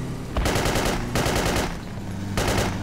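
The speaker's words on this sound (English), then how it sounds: "Why are you shooting him?" Automatic gunfire in Battlefield 2 Project Reality, three loud rapid bursts of machine-gun fire at close range, separated by short pauses.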